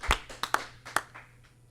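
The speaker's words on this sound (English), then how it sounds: "let's give our winners a big round of applause" A few scattered hand claps at a charity gala auction, several sharp isolated claps spaced irregularly, close and sparse rather than a full crowd ovation.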